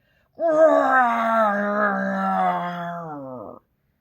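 A person imitates a bear with a long, loud, drawn-out growling moan lasting about three seconds, alone.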